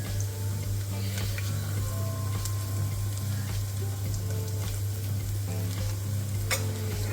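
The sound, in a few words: rice ravva roasting in pan for upma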